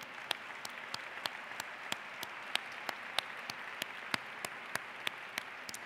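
Steady applause from a large audience fills a university graduation ceremony hall, with dense continuous clapping and a few sharper individual claps standing out, sustained evenly throughout.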